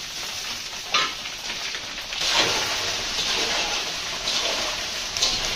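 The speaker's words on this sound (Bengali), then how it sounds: "আদা বাটা দিয়ে দিই আর জিরে দিয়ে দেবো।" Ginger paste and cumin hitting hot oil in a pan on a home kitchen stove, a loud continuous sizzle with sharper bursts as each is added and stirred, no voices.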